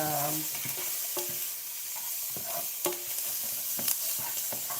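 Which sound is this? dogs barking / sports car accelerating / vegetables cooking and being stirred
vegetables cooking and being stirred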